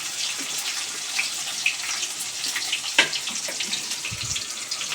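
Onion and garlic sizzle in hot oil after being poured into the pan, a bright steady frying crackle with scattered pops and a faint clatter near the end.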